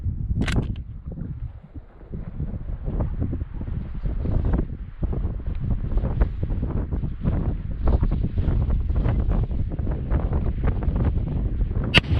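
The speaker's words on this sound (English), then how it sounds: "So you can see the wind gusting pretty big." Strong gusting wind buffets the microphone at an outdoor rifle shooting range, a steady roaring rush with louder surges and rumbling low-end buffeting throughout, with no talking.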